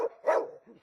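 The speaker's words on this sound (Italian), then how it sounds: "L'abbaiare dei cani dietro i recinti è assordante" Dogs barking behind fences in a residential neighbourhood hit by burglaries, a few short barks and a yip heard at a moderate distance, fairly faint and with no talk.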